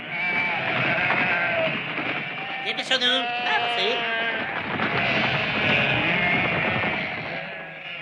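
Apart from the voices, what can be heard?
sheep bleating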